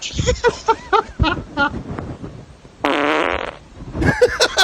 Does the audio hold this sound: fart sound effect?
yes